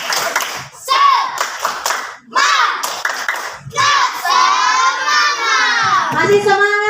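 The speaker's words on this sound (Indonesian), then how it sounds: "Tepuk tangan untuk kita semua." A classroom of children claps, with kids shouting and chanting, under a teacher's voice. The clapping runs in short rhythmic bursts rather than steady applause.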